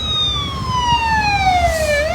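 Emergency vehicle siren wailing at a restaurant fire on the Batumi boulevard, a single loud, close rising-and-falling tone with harmonics over low street rumble.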